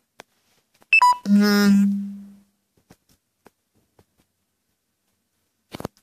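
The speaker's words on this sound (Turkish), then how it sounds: "Telefonun şarjı bitiyor." A phone gives a low-battery warning: a couple of quick high beeps followed by one longer, lower tone, then near silence with a few faint clicks and a brief sound at the end.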